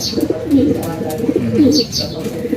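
Racing pigeons cooing close by in soft, repeated throaty warbles, with a few faint chirps above and a light background hum.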